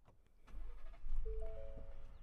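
A 2022 Ford F-150 XLT 4x4 SuperCrew pickup starts with its push-button start, a low engine rumble swelling up twice with a steady tonal hum riding over it, close and fairly quiet.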